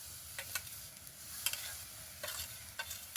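Fresh grated coconut and patali date-palm jaggery are stirred in a wok, giving faint, scattered scraping strokes over a quiet low rumble. No one speaks.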